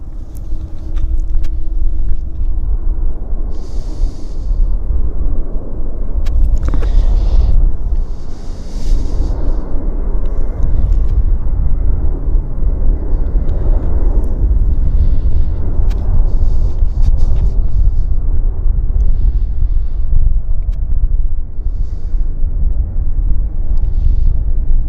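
A passenger airliner on the Winnipeg flight lands at Vancouver YVR airport, heard as a loud, sustained low roar with wind buffeting the microphone.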